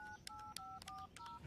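A telephone dials a number to call a school, a quick run of about six distinct electronic keypad tones in short irregular beeps, faint and heard alone.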